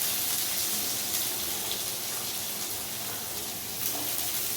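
Steady, dense sizzling of chopped onions frying in a hot pan, a continuous hiss with faint bubbling and no pauses.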